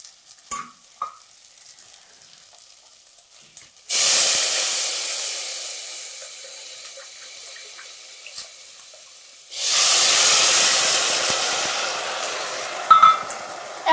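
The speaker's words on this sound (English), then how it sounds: "And that's how you steam things up." Vegetable broth is poured into a hot pan of seared tofu with garlic and ginger, bursting into two loud, sustained hissing sizzles with quieter clatter in between.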